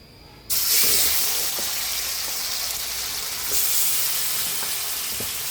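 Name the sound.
broiler chicken meat frying in a pan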